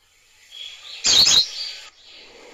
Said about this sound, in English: Bird, you don't need to join in.